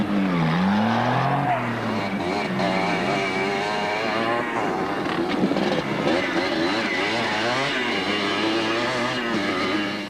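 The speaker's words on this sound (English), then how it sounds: "quads were starting to catch up with some of the motor vehicles" Off-road racing vehicles and quads at the Caledon 400 race, engines loud and close throughout with rising and falling revs, passing vehicles and some tyre scrub on a dry riverbed course.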